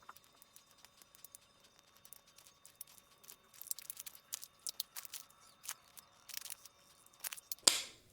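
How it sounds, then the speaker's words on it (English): UV DTF sticker transfer film slowly peeled back from a corner, a faint crackly series of small ticks and tearing rustles, building toward a louder final rip, close and quiet. "So find the corner and you're just gonna peel it back."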